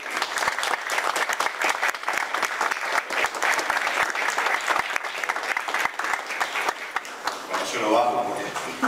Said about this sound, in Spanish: un gran aplauso para el amigo